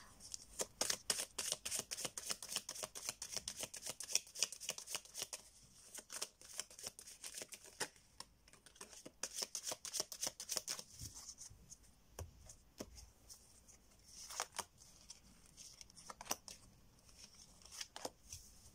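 Tarot cards being shuffled by hand, a rapid run of crisp riffling flicks and slaps, close and fairly quiet, with a few pauses and slower card taps toward the end and no talking.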